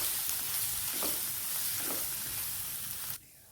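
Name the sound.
coriander and pepper powder being roasted in a pan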